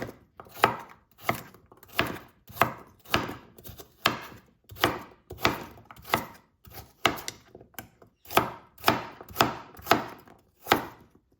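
A sharp professional kitchen knife chops through an onion on a board, with about twenty crisp, close cuts in a steady, slightly uneven rhythm and short pauses between strokes.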